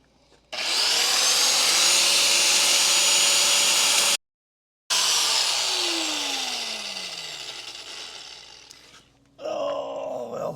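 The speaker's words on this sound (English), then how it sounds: "We're going to turn bad welding into good grinding" A flap disc grinds down welds on rusty metal, a loud, close, sustained abrasive whine. It cuts out briefly, resumes and fades as the grinder spins down, then a short burst of other noise follows at the end. No one speaks.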